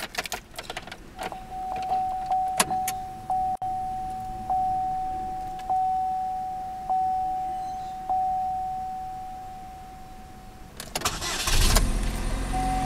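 A 2007 Pontiac G5 GT's 2.4 liter EcoTec four-cylinder engine cranks and catches, followed by a series of evenly spaced electronic chimes over a steady idle, then a louder rush of noise near the end.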